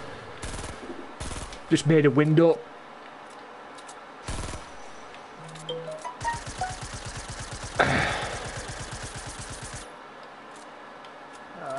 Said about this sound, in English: Who's shooting fireworks?